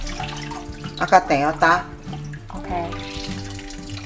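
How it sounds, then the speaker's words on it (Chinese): Sour fermented cabbage is rinsed under a running tap, a steady splash of water in a sink beneath a speaking voice. "咱来洗这个菜，酸高丽菜洗一下"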